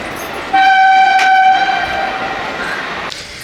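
A train sounds its horn in a loud, steady tonal blast and rumbles past up close, the horn fading after a couple of seconds while the rolling rail noise carries on, with no talk.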